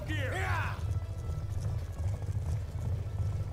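Horse in the Black Ops 2 video game galloping with a steady rhythmic low clatter of hooves throughout, a whinny near the start, and someone talking over it.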